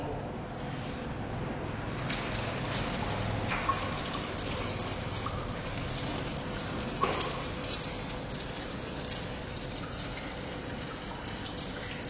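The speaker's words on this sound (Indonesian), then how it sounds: "Kita nyalakan keran terlebih dahulu." Tap water runs steadily into a venturimeter tube during a basic physics lab, making a continuous hissing rush with faint splashing, moderately quiet and with no voices.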